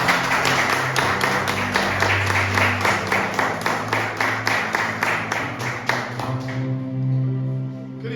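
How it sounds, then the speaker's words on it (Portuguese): A church congregation claps together in a fast, even rhythm of dense, sharp hand claps that stop abruptly near the end, leaving a low hum. "Uma salva de palmas para Jesus."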